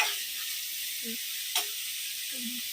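Steady hiss of a tempering sizzling in hot oil for mutton curry, close and continuous, with a single short clink partway through.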